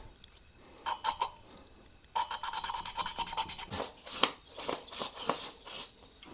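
Engine valve on a Kohler Courage 20HP SV600 twin being spun back and forth by hand with a suction cup tool, giving close, gritty rasping strokes in short bursts, then a steadier run of rubbing passes.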